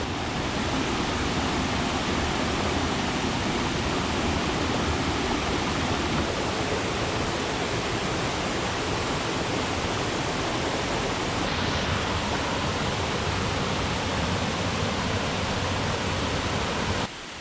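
Waterfall in Gunung Gading National Park, Sarawak, a loud, continuous rushing roar of falling water, close and steady throughout with no voices.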